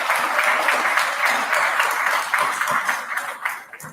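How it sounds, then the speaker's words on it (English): Applause for the Dolton Fire Department at a village meeting, a dense steady wash of clapping from a room full of people that holds for several seconds and begins thinning toward the end. "let's give a round of applause for our Dolton Fire Department"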